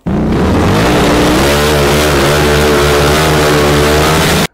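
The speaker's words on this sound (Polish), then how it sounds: "Niech ci wpadnie przez przypadek patyczek dookoła, jedziesz z górki, ludzie myślą, że jedziesz jakimś motorem." Outdoors, a kick scooter rolls downhill with a stick caught in its wheel, making a loud continuous buzzing rattle that climbs in pitch and sounds like a motorbike engine revving, with no talk over it.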